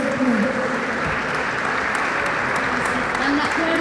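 Audience applause fills a Senate event at the former seat of the Mexican Senate, a steady dense clapping bed with a voice speaking over it throughout.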